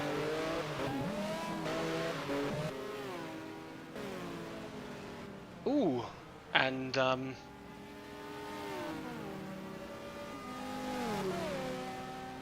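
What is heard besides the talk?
GT race car engines revving in a racing video game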